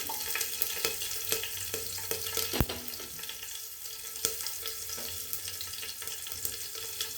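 Mustard seeds, cumin, a pinch of hing and green chillies sizzle in hot oil on lowered heat, a steady hiss scattered with sharp crackles and pops, one louder snap partway through.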